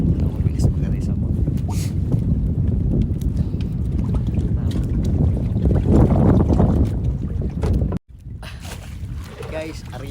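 A boat motor runs steadily on the water during traditional fishing in the Philippines. Its constant low rumble is mixed with wind buffeting the microphone, and voices talk over it.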